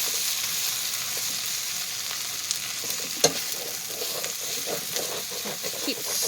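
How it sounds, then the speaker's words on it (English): Potatoes frying and browning in a pot for bacon corn chowder, a steady close sizzle with occasional soft stirring clicks and scrapes throughout. "Potatoes are starting to get nice and browned up."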